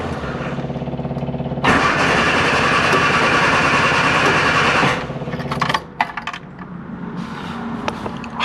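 A classic Mini Clubman Estate engine cranks and fires up, roaring loudly for a few seconds before settling to a rougher, quieter idle with some clicking, heard up close with no talk.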